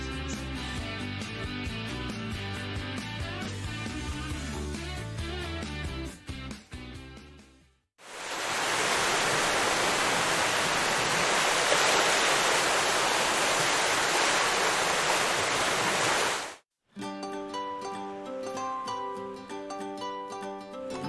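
Ocean surf on a rough day at the beach, a steady loud wash of breaking waves filling the middle stretch, with music before and after it.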